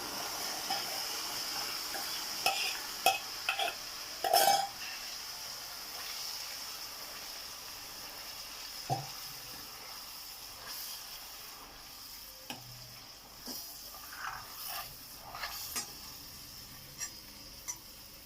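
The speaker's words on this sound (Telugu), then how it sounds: "ఇప్పుడు వేసి ఒకసారి కలుపుకుందామండి చక్కగా." Tomato gravy with paneer curry masala being stirred in a pan, a soft steady simmering sizzle with scattered spoon scrapes and clicks, quiet and close, no voices.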